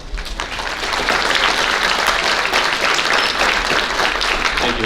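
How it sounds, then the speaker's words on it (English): Sustained audience applause fills a school athletic banquet honoring the girls' varsity basketball team, dense steady clapping that swells after the first second and holds loud throughout. "Please give these young ladies another round of applause."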